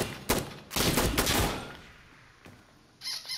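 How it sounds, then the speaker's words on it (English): Gunfire in the tactical shooter Insurgency: Sandstorm, a burst of rapid automatic shots followed by a fainter lone shot and a later sharp crack, fairly close and with no talking. "Who's shooting me?"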